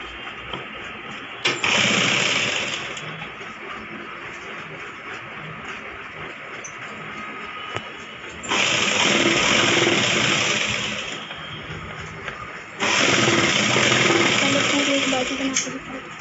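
A sewing machine stitching the folded edge of a plain blouse sleeve at home, running in three loud bursts of a few seconds each with a lower hum between them.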